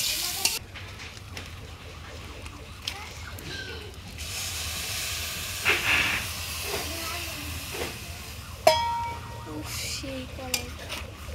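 Grated carrots cooking in a pan for carrot halwa, a soft steady sizzle and hiss with occasional stirring scrapes and clinks, fairly quiet and close, with a voice speaking briefly.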